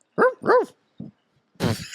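A human voice imitates the yapping of Dino, the Flintstones' pet dinosaur, with two quick, high, whining barks, a short grunt, then a raspy, breathy sound, close and loud.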